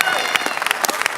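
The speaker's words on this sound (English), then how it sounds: "A round of applause for the new heavyweight champion" A short burst of crowd applause with scattered clapping and cheering follows the announcement of a new heavyweight boxing champion at a post-fight press conference. It is loud and close, and a voice speaks over it.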